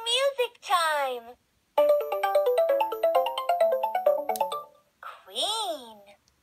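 A Fisher-Price Smart Stages musical learning toy plays a bright electronic melody of rapid stepped notes, with a synthetic child-like voice speaking before and after the tune.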